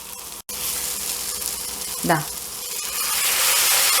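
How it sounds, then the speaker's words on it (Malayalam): Steady frying sizzle of masala for Kerala egg roast, with a brief splash as boiling water is poured in, sizzling continuing and swelling afterward. "ഈ സമയത്ത് ഒരല്പം തിളച്ച വെള്ളം നമുക്കിതിലേക്ക് ഒഴിച്ചു കൊടുക്കാം."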